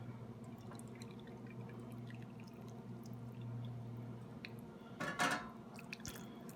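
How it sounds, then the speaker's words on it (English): Boiling water poured and splashed into a cake batter mixture, a soft liquid trickle under a steady hum with a short louder splashing burst near the end. "some boiling water into this mixture very carefully"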